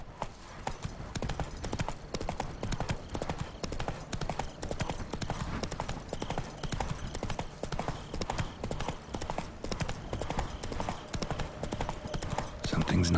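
Roach, a horse in The Witcher 3, galloping with a fast, steady, close clip-clop of hooves running throughout, with a voice briefly heard at the very end.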